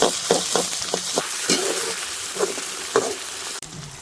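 Cumin seeds sizzle in hot oil for a tadka, a steady loud frying hiss with repeated stirring scrapes and crackles throughout, no voices.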